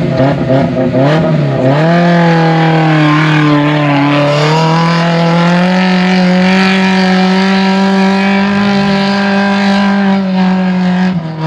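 A Mitsubishi TR4 automatic 4x4 climbing the Ferradura sand dune: a loud, close engine dips briefly, then revs up and holds a strong, steady drone as the vehicle pushes through the sand.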